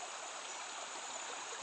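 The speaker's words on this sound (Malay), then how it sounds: "Dua aliran sungai." Steady broadband rush of a flowing river stream where two channels meet beside an island, a continuous even wash of water with no breaks, moderately faint and alone.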